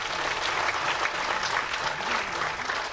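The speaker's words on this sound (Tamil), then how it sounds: "நம்ம ஹீரோக்கும் நல்ல அரங்கமே அதிர மாதிரி கைத்தட்டு கொடுங்க." An indoor audience at a movie audio launch event applauds loudly and steadily, a dense wash of clapping with a faint hum of crowd noise underneath.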